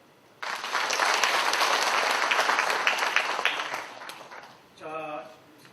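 Loud audience applause at a housing managers' day debate in Korea, a dense burst of clapping that swells and holds for about four seconds, then fades as a brief spoken voice follows.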